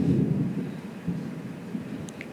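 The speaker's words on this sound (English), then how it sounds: "It's raining so badly outside." A heavy outdoor thunderstorm rumbles with a low, rolling thunder roar and a steady wash of heavy rain, heard indoors at moderate loudness with no one talking.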